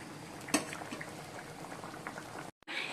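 A pot of Bengali fish curry with taro and potato bubbling on the stove, soft continuous burbling and popping close by, ending with a brief cutoff, no talking.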